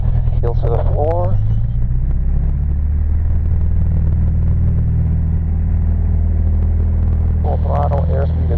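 A small aircraft engine at full throttle during the takeoff roll, a steady loud droning rumble throughout, with voices talking over it at the start and end.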